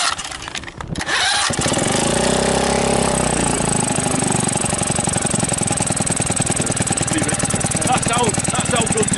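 A Honda BF5 outboard motor cranks with a few sharp pulls, catches and then runs loud and close at a steady, rapid chugging idle for the rest of the clip.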